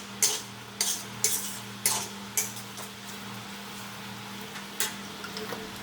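Scrambled egg stirred in oil in a frying pan with cooked pasta, a utensil scraping and clinking against the pan in a string of sharp strokes about every half second, then slowing, over a low steady hum.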